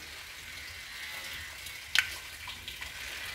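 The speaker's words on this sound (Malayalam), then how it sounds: "നമ്മുടെ കടുക് പൊട്ടിക്കഴിയാറായി." Mustard seeds splutter faintly in hot coconut oil in a pan, a low continuous sizzle with one sharp pop near the middle and a couple of softer crackles after.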